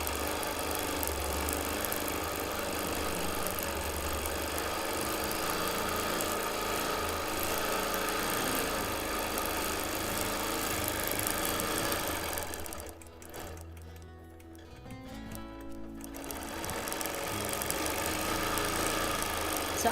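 A sewing machine runs steadily while stitching quilting lines, a close mechanical whir with rhythmic needle chatter, briefly pausing and dropping away before starting up again.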